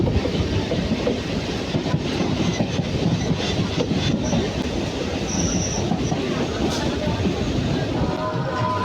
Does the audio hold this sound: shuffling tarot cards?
no